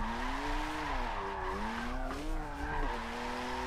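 Tires squealing in long wavering tones as a car drifts in Forza 7, engine roaring underneath, loud and close for a few seconds.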